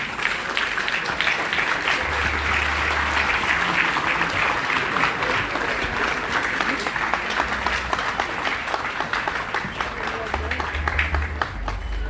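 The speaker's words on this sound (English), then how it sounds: "I want you all to please stand and give Sister Rita Marley a big round of applause" A standing crowd at the IRAWMA Awards 2019 ceremony gives a loud, sustained round of applause for Sister Rita Marley, dense clapping running throughout with faint voices and cheers mixed in.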